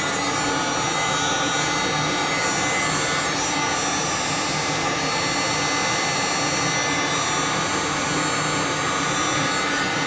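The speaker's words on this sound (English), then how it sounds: "And then I just start working the heat gun down." A heat gun blowing hot air onto veneer edge banding on a homemade kitchen cabinet, a loud, steady, close whooshing roar that holds unbroken throughout with no voices.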